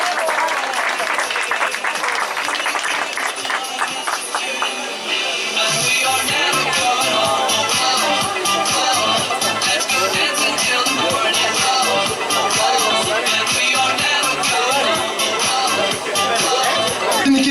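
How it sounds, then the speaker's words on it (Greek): A crowd applauds race winners at a trail run prize ceremony, loud sustained clapping that builds into rhythmic unison clapping and continues throughout, with voices mixed in. "Ένα χειροκρότημα."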